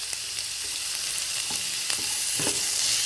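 Onions sautéing in a pan as the base for a home-style Kerala duck roast, a steady soft sizzle broken by occasional scraping stir strokes.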